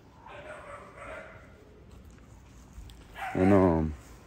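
Pit bull puppies, big XL type, give a sudden close burst of loud yelping and whimpering near the end, after a stretch of quieter background noise and brief murmurs.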